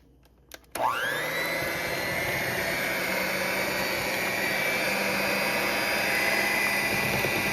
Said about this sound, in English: We're going to beat this with a hand mixer on medium speed for 2 minutes.